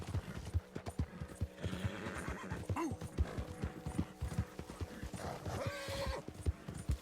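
Rapid clip-clop of hooves with a horse whinnying and snorting in Red Dead Redemption 2, close and busy, over a steady background bed.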